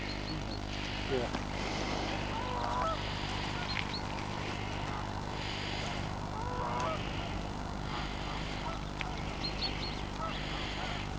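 A flock of Canada geese honking repeatedly at a distance at Pitsford Reservoir, a noisy overlapping din over steady background rumble, with a voice talking faintly.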